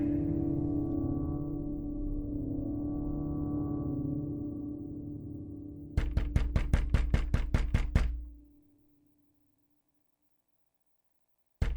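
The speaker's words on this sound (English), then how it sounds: "woke to the sound of giant robots trying to break down his door" Heavy pounding on a door in a radio play, a rapid burst of about ten loud, evenly spaced booming knocks cutting in over a low droning background, then stopping abruptly into silence before one more hit at the end.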